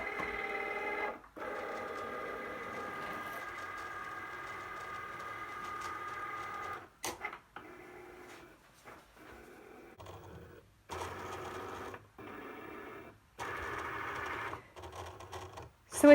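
A Cricut cutting machine works through cardstock, giving a faint mechanical whirring hum in several bursts separated by short pauses and clicks, quiet and close by.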